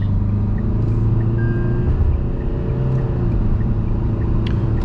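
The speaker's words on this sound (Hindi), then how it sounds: "मैं अभी एक्सेलरेशन पेडल दबाया" Tata Harrier BS6 automatic SUV accelerating to overtake, a steady low engine drone and road rumble rising slightly in pitch, loud and continuous from inside the cabin with no talking.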